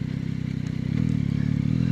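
A motorcycle ridden on the road with a tire that had been losing air, its engine droning steadily at close range with a rumbling rhythm that grows louder halfway through, no talk.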